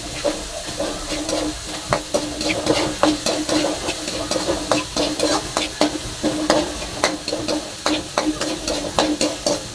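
Native chicken cooking in a pan with onions, with loud repeated stirring scrapes and clatter over a continuous sizzle, the strokes coming in an irregular rhythm.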